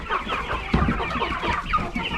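Chickens on a farm cluck continuously as a flock waiting for feed, with overlapping close clucks and calls forming a steady busy din.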